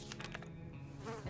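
Insects buzzing in the video game 60 Seconds! Reatomized, a steady droning hum that holds for the whole moment at moderate, even loudness with no voices over it.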